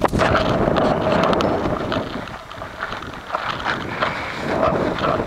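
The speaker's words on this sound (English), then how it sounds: "It's very windy out here by the way." Strong wind blows outdoors at a fireworks setup, a steady, loud rumbling buffet against the microphone that continues throughout with slight surges and no talking.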